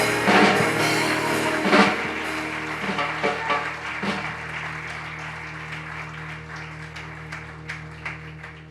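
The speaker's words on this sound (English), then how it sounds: "Clap your hands and give God a praise." An audience claps at a historical African diaspora recognition event, a loud burst of applause at first that thins to scattered claps and fades.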